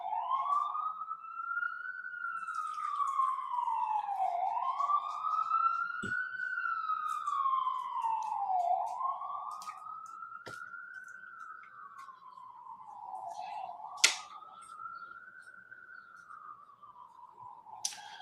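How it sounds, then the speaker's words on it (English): A police siren wails in slow, repeated rising and falling sweeps, moderately distant, with a few scattered clicks. "There come the sirens."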